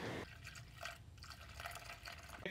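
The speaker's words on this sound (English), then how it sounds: "we're just going to open this screw and continue to add coolant until coolant comes out of here without any bubbles" Coolant trickles and gurgles steadily into the radiator of a Honda Civic during refilling and bleeding, a close, continuous liquid pouring and dripping sound with no talking.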